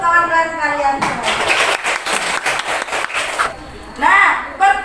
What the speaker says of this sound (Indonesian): Beri tepuk tangan untuk kawan-kawan kalian semua